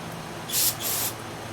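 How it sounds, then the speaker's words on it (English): Carb cleaner hisses from an aerosol can into the check valve of a 1972 Coleman 200a lantern in two short, close bursts, the first sharper, over a quiet background. "using some carb cleaner, right? And you're going to spray that in the check valve"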